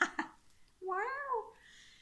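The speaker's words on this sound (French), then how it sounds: "Et il y a un chat qui miaule." A cat lets out a single drawn-out meow, rising then falling, close by in a quiet room, after two brief faint clicks.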